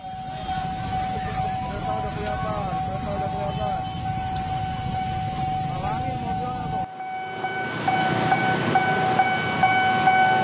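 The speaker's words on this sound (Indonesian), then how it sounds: "Ini kereta-kereta yang dari dan juga akan menuju ke stasiun Pondok Jati" Train passing a railway crossing near Pondok Jati station, steady rumble of rail cars with a warning bell tone ringing over it, growing louder and brighter in the last few seconds.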